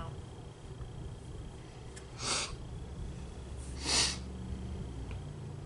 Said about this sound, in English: We're both sniffling.